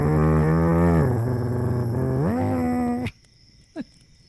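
A person's voice imitates a motorcycle, a buzzing, engine-like drone about three seconds long that dips and rises in pitch like revving, then cuts off abruptly into near silence.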